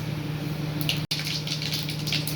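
Mustard and fennel seeds sputter in hot oil for a broad bean kuzhambu, a steady close frying hiss with fine crackling pops.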